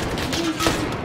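Dense rapid gunfire from Call of Duty: Modern Warfare rattles loud and close throughout, with thuds and a voice faintly underneath.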